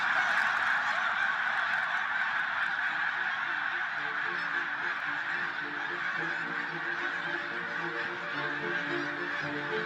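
A large flock of snow geese gathered in a field in Quebec in November gives a dense, continuous chorus of overlapping honks, steady and fairly loud across the whole ten seconds, with no voices heard.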